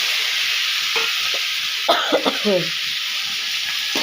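Boiled small yams (sirukizhangu) tipped into a frying pan of sautéed ingredients and stirred a couple of times, with a steady hiss, a few scraping strokes and a short throat-clearing sound partway through.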